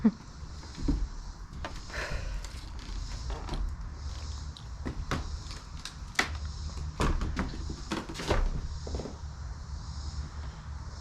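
A door in an abandoned building creaks open with a few knocks and clunks, fairly quiet against a low background hum.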